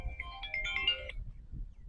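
Mobile phone ringtone for an incoming call, a short melodic tone phrase playing at moderate volume for about a second before cutting off, with faint background noise after.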